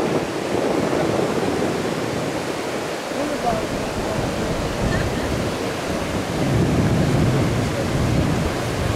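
Steady wash of ocean surf and wind noise rolls on throughout at a beach in Gyaahadaze, Ghana, with a voice speaking briefly over it.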